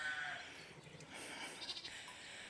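A ewe with newborn twin lambs bleating, thin wavering cries rising faintly over a quiet outdoor background.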